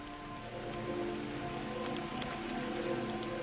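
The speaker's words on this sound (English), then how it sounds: "I've got some really heavy rain here." Heavy rain in a video game, a steady dense wash of falling drops with a low rumbling undertone, loud and continuous throughout with no voices.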